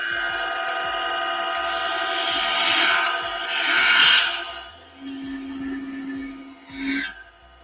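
A wood lathe spins a ladle blank held in a chuck, giving a steady scraping, rasping whir with rising and falling bursts and a brief tonal hum near the end, heard up close with no talk.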